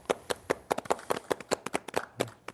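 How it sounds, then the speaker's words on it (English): Studio applause for basketball broadcast panelists during a halftime show: a brisk run of sharp, uneven hand claps from a few people, close and fairly loud, with no speech. "Clapping for yourselves."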